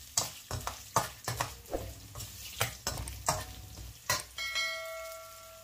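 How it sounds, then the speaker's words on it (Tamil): Garlic, asafoetida and tamarind are sautéed in a pan for mint-coriander thuvaiyal, with rhythmic spatula strokes scraping over a soft, steady sizzle. A faint ringing tone rises near the end. "புளியும் ஆட் பண்ணி நல்லா வதக்கிக்கலாம்"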